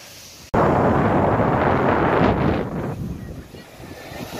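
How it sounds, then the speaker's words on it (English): Strong wind buffets the microphone on the Mediterranean coast during a sea fishing trip, a loud roaring gust starting abruptly and holding steady before easing slightly, with possible waves beneath. "The wind is absolutely unreal."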